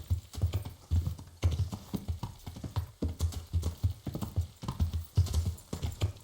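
Horse hooves clip-clopping in a steady quick rhythm while riding in the video game Kingdom Come: Deliverance, close and continuous with no talk over it.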